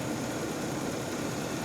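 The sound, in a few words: car engine running, the 350 engine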